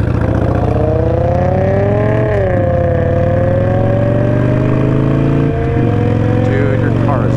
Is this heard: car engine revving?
yes